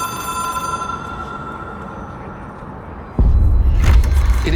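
A telephone in the video game Control rings with a sustained tonal ring over background hum, then a sudden louder low rumble cuts in partway through.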